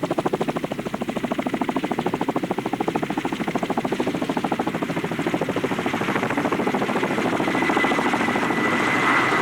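A Kamov helicopter used for heli-logging drones steadily overhead, its rotor chopping in a fast, even pulse that swells slightly louder toward the end.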